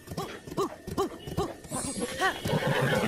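Horse galloping in a video game, hooves thudding in a quick steady clip-clop rhythm close up, with whinnies and neighs mixed in and a brief rush of wind near the end.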